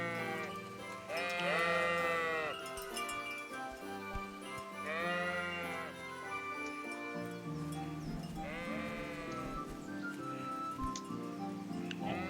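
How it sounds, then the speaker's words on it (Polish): In the medieval game world of Kingdom Come: Deliverance, a flock of sheep bleats in three loud, quavering calls spaced a few seconds apart, set against a soft musical and ambient backdrop. "Fajnie barany beczą."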